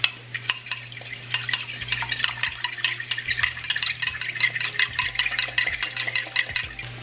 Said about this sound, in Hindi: इधर प्याज भी कुक हो रहा और इधर चीनी को भी मिक्स कर लेते हैं